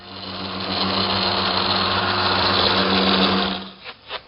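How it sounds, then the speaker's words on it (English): Power sander working the inside surfaces of a wooden toy chest, a loud steady whirring buzz held for several seconds before cutting off, then a couple of brief knocks. "I want to sand all the inside surfaces"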